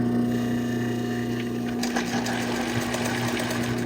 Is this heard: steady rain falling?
no